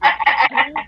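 Animated chickens cluck excitedly in a cartoon volleyball match against lobsters, several rapid loud clucks and squawks packed close together in under a second.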